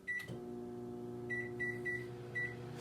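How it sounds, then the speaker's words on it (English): A microwave oven set on high runs with a steady low electrical hum, broken by a short clunk at the start and several faint high beeps that come later in the clip. "I'm going to go ahead and microwave that for a couple of minutes"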